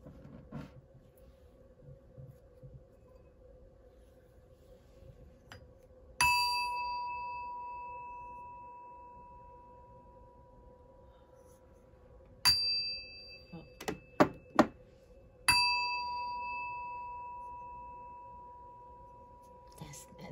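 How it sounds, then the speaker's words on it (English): A bell, probably a small metal ritual bell, rings out in clear struck tones with long decaying rings, one strike, then a quick cluster of several, then another, over a quiet hum. "Let's go ahead and ring the bell."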